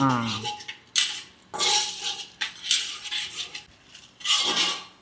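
Chana dal being stirred as it fries in a pan for idli sambar masala, with a utensil scraping and clinking against the pan in repeated close strokes and faint sizzling between them.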